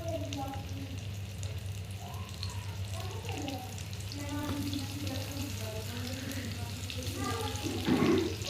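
Shrimp frying in hot oil in a wok for a Bengali malai curry, a steady, fairly quiet sizzle with occasional stirring scrapes, while a person talks over it.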